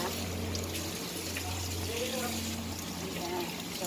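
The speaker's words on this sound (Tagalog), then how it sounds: "hugasan na natin ang gulay" Tap water runs and trickles steadily while vegetables are washed, a soft continuous flow with a low hum underneath and people talking quietly over it.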